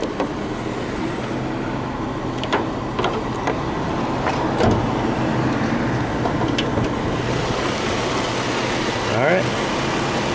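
A Jeep Wrangler Sport 4x4 Willys Wheeler with a 3.6-liter V6 idles with the hood open, a steady low engine drone under someone talking briefly nearby.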